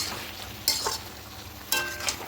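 Lentil dal with shrimp and Malabar spinach being stirred in a frying pan, a soft continuous sizzle with two distinct scraping strokes of the spoon, close and quiet.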